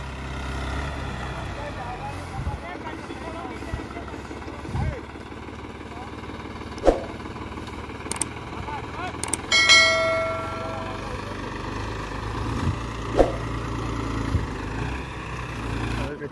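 A Mahindra Arjun tractor stuck at a field's edge on a ghat labours with a low, droning engine. The engine strains on and off over a long stretch, with someone talking throughout and a few sharp clanks.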